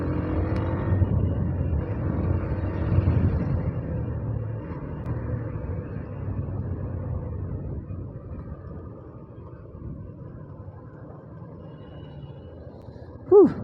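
A KTM Duke motorcycle engine while riding, a steady droning hum with mild revving swells that slowly fades, ending in a brief sharp noise, with no talking.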